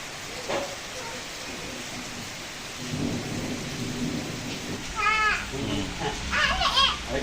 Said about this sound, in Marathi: गार गार थंडगार पाऊस